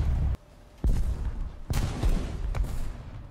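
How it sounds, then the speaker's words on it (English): Large bombs burst in a War Thunder battle, several heavy booming blasts arriving in quick succession, loud and close, with rumbling decay between impacts. "Rather big bombs being dropped at the moment."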